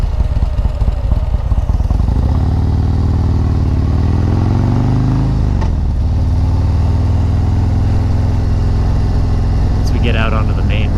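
Motorcycle fitted with a Fuel Moto 124 big bore kit and S&S 475 cam riding out onto a main road, its loud, close engine droning steadily and rising in pitch as the throttle opens, with a voice talking over it.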